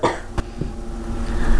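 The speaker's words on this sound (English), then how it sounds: "I need a cough for this one" One person gives a couple of short, abrupt coughs up close, with a faint low hum behind them.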